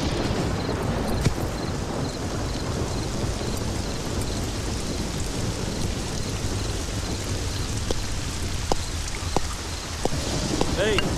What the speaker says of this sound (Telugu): వర్షం వస్తున్నది సారు.